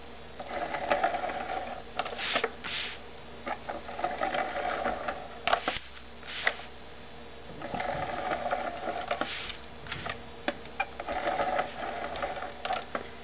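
An ATG adhesive tape gun dispensing tape onto paper for a mini book, with repeated close mechanical ratcheting and clicking bursts and soft rubbing between them, no voices.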